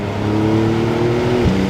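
A Porsche 911 992 Carrera 4S Cabriolet with a 3-litre biturbo engine pulls hard with a loud, steady engine note, then briefly dips near the end as if shifting gear.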